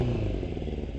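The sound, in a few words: Suzuki Katana motorcycle engine with D&D exhaust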